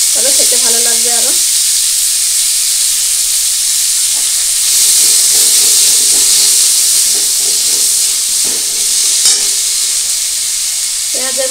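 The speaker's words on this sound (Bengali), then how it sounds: "একটু ভেজে নিয়েছি শাকের পেঁয়াজ" Chopped onion with greens sizzles and hisses steadily in a hot pan, a loud continuous fry with occasional stirring clinks and a few faint spoken words.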